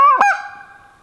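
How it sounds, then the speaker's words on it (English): A goose call blown by a turkey hunter on public land lets out a single loud, close honk, with a sharp break in the middle, then fades as it trails off. "it's when you're going to go into the goose call noise"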